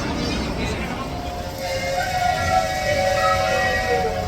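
A train whistle sounds in a long, steady tone over a busy crowd murmur and background voices at the Fantasyland train station in Walt Disney World, with an open, outdoor station feel.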